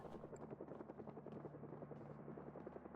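Helicopter in the video game Project Zomboid, its steady rotor chop and engine drone holding at an even level for the whole stretch, with no talk over it.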